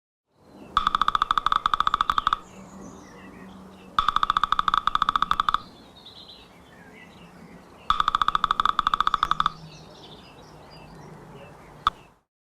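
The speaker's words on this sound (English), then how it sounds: "Woodpecker." A woodpecker hammers in three long bursts of rapid, even tapping, each lasting a second or more with short pauses between. The drumming is crisp and close, and a single faint knock follows at the end.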